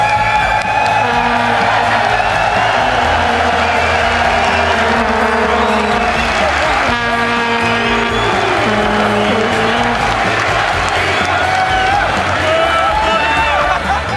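A large audience at a League of Legends LCS esports event in Europe cheers and roars continuously, a loud, dense crowd din with music and voices talking over it throughout.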